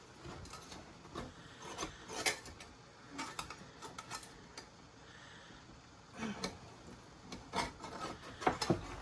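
Baked no-rise bread being pried out of an oiled pan, faint scattered scraping and knocking with quiet rasps and ticks at irregular intervals.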